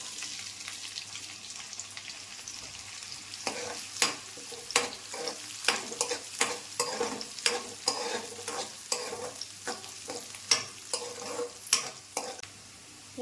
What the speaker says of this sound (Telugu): ఉల్లిపాయ ముక్క వేగినాయండి